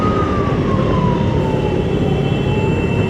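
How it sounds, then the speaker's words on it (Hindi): An ambulance siren wails loud and close in Indian street traffic, a continuous tone gliding slowly downward over heavy engine and road rumble. "कोई एम्बुलेंस में है, ये वैसे ही हूटर मार रहे हैं।"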